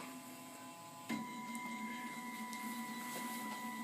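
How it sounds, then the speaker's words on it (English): A Malyan M180 desktop 3D printer initializes and resets its axes, giving a quiet steady electronic hum with faint ticks and a soft click partway through. "The printer then initializes, resets all axes to 0, and will start the heating process"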